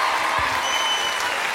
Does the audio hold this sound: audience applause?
yes